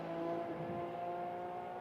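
Ferrari FXX-K Evo race car engine running steady at high revs, with a sustained harmonic drone that shifts slightly in pitch, at a track with no voices.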